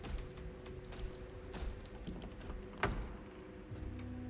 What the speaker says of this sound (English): I hear the gold clicking